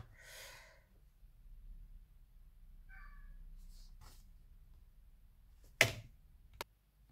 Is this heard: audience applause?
no